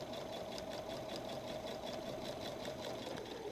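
A sewing machine back stitches along the edge of a messenger bag pocket flap, a close, steady mechanical whirring hum with a fast regular needle rhythm, running continuously with no pauses.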